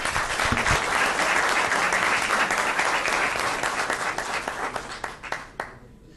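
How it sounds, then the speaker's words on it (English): Sustained applause from a crowd at a city council meeting, full and steady at first, then thinning into scattered claps as it fades out. "Let's give her another round of applause."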